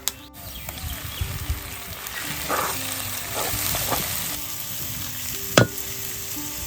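Onion paste sizzles in hot oil in a pan while Bengali potol chingri with pointed gourd and prawns is cooked, a steady crackling fry with a few stirring clatters and a sharp clink.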